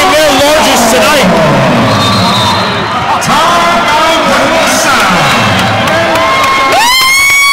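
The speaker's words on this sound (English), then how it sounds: "The crowd is hyped, okay?" Loud arena crowd cheers and whoops throughout at a high school basketball game in Crypto Arena, Notre Dame High School, with shouting voices, an announcer talking over it, and a sharp whistle-like tone near the end.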